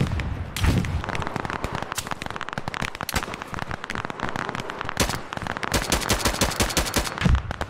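An FG-42 automatic rifle fires in Operation Harsh Doorstop, rapid loud bursts of crackling shots over a constant din of battlefield gunfire, with heavier thumps near the start and end.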